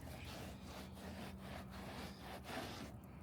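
Microfiber towel rubbed over a car's painted surface after a rinseless wash pre-spray, making steady, rhythmic swishing strokes up close, with no talking.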